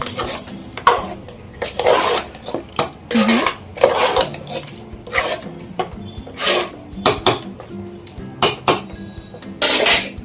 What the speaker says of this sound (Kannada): ಸ್ವಲ್ಪ ಉಪ್ಪು ಆ್ಯಡ್ ಮಾಡ್ತೀನಿ ಚೆನ್ನಾಗಿ ಮಿಕ್ಸ್ ಮಾಡಿ